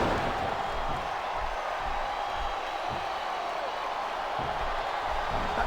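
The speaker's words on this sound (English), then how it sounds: "Sounds like this crowd's got something on their minds, King." A large wrestling video game crowd murmurs and roars steadily at a moderate distance, with a few soft swells and no clear speech.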